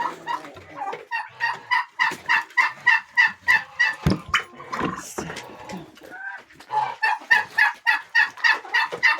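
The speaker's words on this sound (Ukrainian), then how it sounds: "О, півничок. Червоненький." A red rooster crowing and clucking among fowl nearby, with repeated loud rhythmic calls across the stretch and a brief pause midway.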